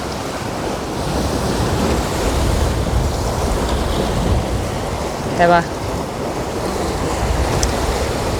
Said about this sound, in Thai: เบิ่งน้ำทะเลพี่น้อง